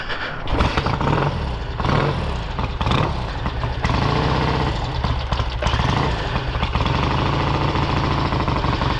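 A 1968 Triumph Bonneville cafe racer motorcycle engine catches after a kick-start and runs loud and close, with rough, pulsing revs and throttle blips throughout.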